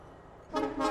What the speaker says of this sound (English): It gives a honk as it pulls into station.